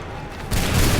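Musket volley in Assassin's Creed 3 Remastered: a sudden broad, loud crackling blast of many guns firing together, breaking out halfway after a softer rumble.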